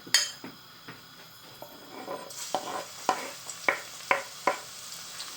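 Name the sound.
chopped garlic added to hot oil, sizzling, for fish curry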